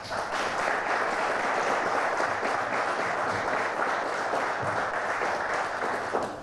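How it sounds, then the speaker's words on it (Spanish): Audience applause at a trophy ceremony for a canary singing and timbrado contest, a dense, steady wash of many hands clapping that holds evenly for the whole stretch, with no voices over it. "Que de donde esté reciba este aplauso cariñoso."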